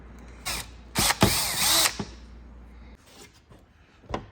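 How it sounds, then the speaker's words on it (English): A power drill whirs in short bursts while drilling holes in an RC crawler body, a couple of longer runs followed by brief zips, close by with quiet gaps between. "I'm gonna have to drill some holes to pop this cross member thing back in here"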